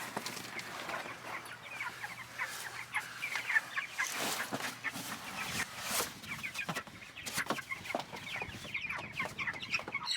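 Young chicks clucking and peeping inside a chicken tractor outdoors, a dense, steady chorus of overlapping calls with a few sharper louder chirps, close by and continuous throughout.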